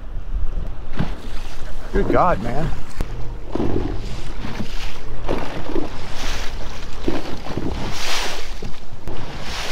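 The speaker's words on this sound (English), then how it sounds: "A lot more wind over here." Strong wind gusts across Lake Ouachita during a bass fishing tournament, roaring steadily into the microphone with waves slapping a boat, while a man briefly exclaims over the noise.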